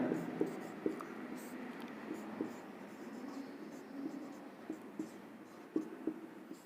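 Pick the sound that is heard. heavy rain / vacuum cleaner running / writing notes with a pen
writing notes with a pen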